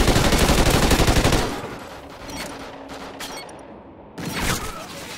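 Ripper submachine gun fire in Call of Duty: Ghosts, a loud sustained automatic burst up front, then quieter scattered distant shots, and another short loud burst near the end.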